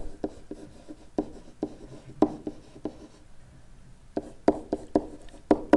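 A pen draws rectangles by hand on paper for a Riemann sum graph, producing close, sharp strokes and scratches in quick uneven bursts with a short lull in between.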